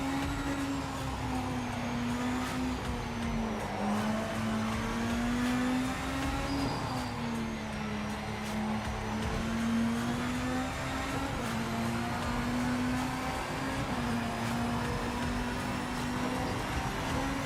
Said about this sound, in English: Let's see how we do driving the car.